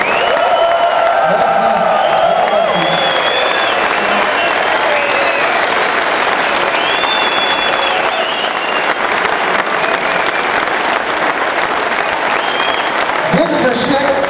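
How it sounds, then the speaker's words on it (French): A large crowd at a charity cycling event on Alpe d'Huez claps loudly and continuously, with whoops and cheers rising above the dense applause and a few voices shouting. "et nous on vous applaudit très très fort, Sylvie, Dominique, et moi"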